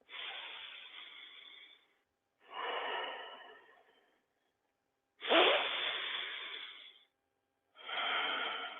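Four long, deep breaths from a breathing exercise, each a breathy whoosh lasting one to two seconds, separated by short silent pauses and heard up close with no talking.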